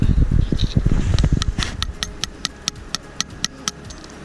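Rapid tapping blows, then a steady series of sharp hammer strikes driving a tap into a sugar maple tree, close and evenly spaced.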